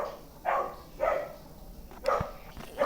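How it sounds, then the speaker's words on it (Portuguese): A dog barks three or four times in short, evenly spaced bursts, somewhat distant against a quiet indoor background, with no talking. "Cachorro tá latindo."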